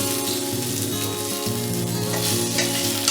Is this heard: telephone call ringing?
no